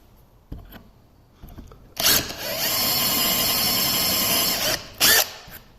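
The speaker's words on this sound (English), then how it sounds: "Here's a sharper drill bit. This is a 9/64." A power drill fitted with a sharp 9/64 bit bores a hole for a bike brake cable end, whirring steadily for about three seconds after a short start, then a brief final burst, close by.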